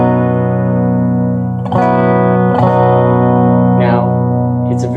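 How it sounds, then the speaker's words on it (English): A sustained major chord on an effects-laden electric instrument with reverb and chorus, loud and steady, restruck a few times with brief bright attacks over about five seconds. "A major mode sounds like this."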